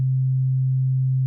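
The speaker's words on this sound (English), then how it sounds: "just a single sine wave, and I have a tube compression on top" A single pure sine wave with no harmonics passed through a tube compressor, a steady loud low hum holding one pitch throughout, alone and unchanging.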